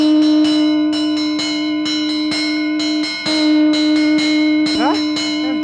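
A conch shell is blown in a long, steady, loud tone while bells ring rapidly and repeatedly around it. There is no talk.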